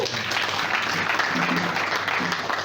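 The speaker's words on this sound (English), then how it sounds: "Another big clap." Applause from a church congregation marking the Church of God's 134th year, a dense, steady clatter of many hands filling the room for under three seconds with a low hum beneath.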